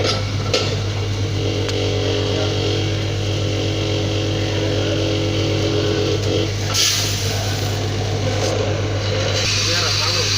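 An old coffee bean roasting machine runs with a steady, loud mechanical drone and low hum throughout, roasting beans to a full city plus level, while people talk over it.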